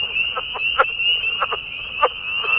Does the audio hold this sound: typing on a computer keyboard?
no